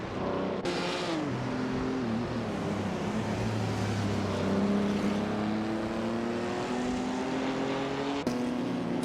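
A 1969 Pontiac GTO race car engine drones steadily at high revs, with tonal shifts as it accelerates and changes gear, heard continuously and loud, with no speech.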